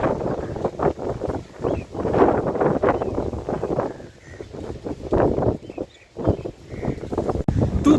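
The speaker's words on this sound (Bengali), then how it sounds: "দুর্ধর্ষ হাওয়া দিচ্ছে, দুর্ধর্ষ হাওয়া দিচ্ছে।" Strong wind blowing at a sea beach in Digha, gusting in loud, uneven buffets and roars against the microphone, with brief lulls between surges and no voices heard.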